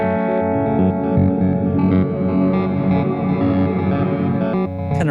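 A dense, sustained synth-like tone run through filter and reverb effects, loud and distorted with shimmering, chorused layers that swell and hold, then cut to a brief bright burst at the end.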